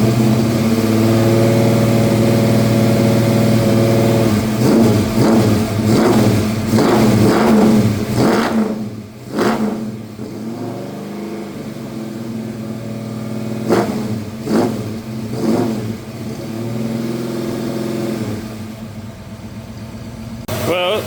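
Rebuilt Ford 302 V8 runs close by, idling with several throttle blips and revs that rise and fall, then settles back to a steady rumbling idle.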